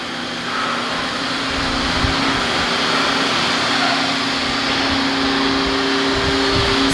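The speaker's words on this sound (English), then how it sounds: "working hard at grinding the floor to prep it for epoxy" A floor grinder working a shop's concrete floor to prepare it for epoxy, a loud continuous motor drone with steady grinding hiss, unbroken and close, with no talk.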